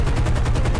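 Rapid aircraft cannon fire in War Thunder, a dense continuous burst of evenly spaced thumping shots, loud and close, running the whole moment with no talk.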